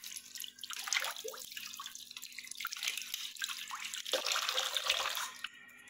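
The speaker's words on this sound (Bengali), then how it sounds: "তখন ধুয়ে নেবো আমি চিরুনিগুলো।" Tap water runs and drips into a bathroom basin as combs are rinsed one by one, a steady close splashing stream with irregular drips and spatters.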